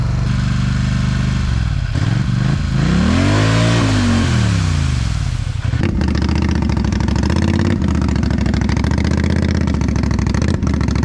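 A Polaris Scrambler 1000 ATV, missing a tire, runs its engine up in a rising and falling rev before settling into a steady, close, loud idle with a rough low rumble.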